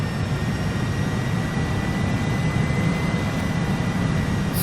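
A Harrier jet in a flight simulator game slows toward a stall with landing gear down, its engine a dense, steady roar that fills the scene without letup.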